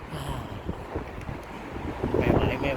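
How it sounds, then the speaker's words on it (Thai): Strong seaside wind buffets the microphone, making a loud, rumbling, gusty roar that swells toward the end. "ไม่ไหวลมแรงมาก"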